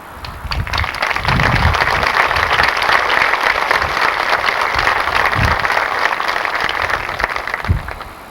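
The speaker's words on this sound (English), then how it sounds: "join me in a salute and applause" Crowd applause at a veterans memorial dedication on Memorial Day, steady dense clapping sustained for several seconds, moderately loud with no talk over it.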